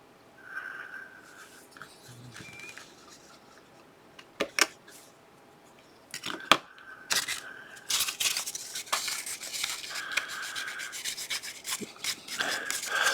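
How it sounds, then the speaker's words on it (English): A hobby knife scrapes a burr off a plastic part on a 1/35 scale Trumpeter M984A2 HEMTT wrecker model, giving soft intermittent rubbing and scratching strokes with a few sharper clicks, close and fairly quiet, with no speech. "Nothing we can't fix with a little X-Acto blade work."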